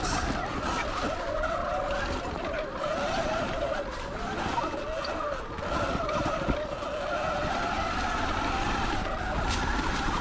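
A Sur-Ron X electric dirt bike rides along a trail, a steady whirring drive with rough, continuous rumble and wind noise staying loud and close throughout, with no talking.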